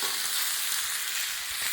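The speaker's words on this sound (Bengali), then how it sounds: "চলো ততক্ষণ একটু নেড়ে নিই। পেঁয়াজ আর আলুগুলো পুড়ে যাচ্ছিলো।" Potatoes and onions fry in a hot pan and are stirred before they burn. A close, continuous sizzle and crackle fills the moment, with faint stirring underneath and no speech.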